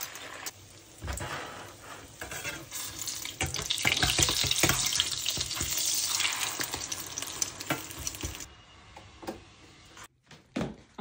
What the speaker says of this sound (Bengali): তেলটাও গরম হয়ে গেছে। আমি এখন ডিমটা দিয়ে দিব।